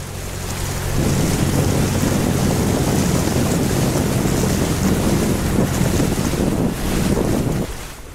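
Tour boat on a Krabi island tour cruising across open sea, with a steady loud rush of wind buffeting the microphone and a low engine drone throughout, no voices.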